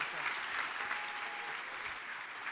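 A crowd at a tribute event for the For Country Caucus applauds steadily, with dense clapping that holds at an even level throughout.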